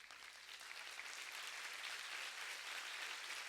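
A church congregation applauds during a sermon, a steady, even wash of many hands clapping that holds at a moderate, slightly distant level for the whole stretch, with no voices standing out.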